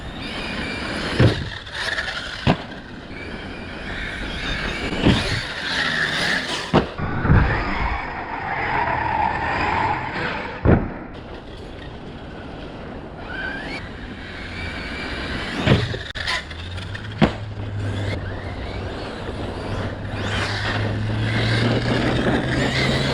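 ARRMA Kraton 8S RC car with Duratrax MFT X-Maxx wheels and Outcast 8S bumper driving and jumping, a whining electric motor surging and fading with sharp thumps of landings, ending in a rising steady run.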